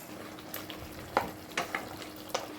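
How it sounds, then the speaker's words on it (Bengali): Mutton for biryani sautés with spices in a pan, a steady soft sizzle broken by a few sharper bursts as the pieces are stirred, close and alone with no voices. "সমস্ত কিছু দিয়ে এবার মাংস কষানো হচ্ছে"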